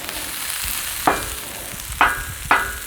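Soba noodles and vegetables from a Trader Joe's stir fry kit sizzle steadily on a Blackstone griddle, with three sharp spatula scrapes or taps cutting through the constant frying hiss.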